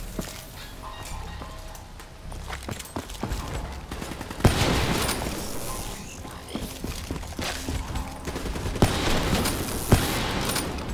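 Scattered bursts of Call of Duty: Black Ops 3 gunfire, single shots and rapid volleys, over a busy background of thuds and movement with occasional talk.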